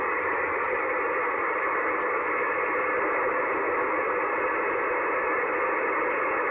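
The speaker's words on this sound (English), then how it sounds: "I will go out to this noise bump here also." A SunSDR2 PRO receiver tuned to a noise bump on the 144 MHz band gives a steady, fairly loud rushing hiss, unbroken for the whole stretch and with no voices over it.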